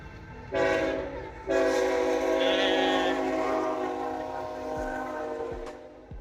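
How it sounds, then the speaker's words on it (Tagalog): Train approaching loudly, with two long, powerful horn blasts sounding close and sustained over the rumble of the rail cars, and a few sharp clanks near the end. "Yes, the train is coming."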